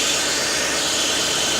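A 2007 Nissan Quest 3.5 engine idling with a misfire from a bad ignition coil, a steady close mechanical hum and rumble with no talk.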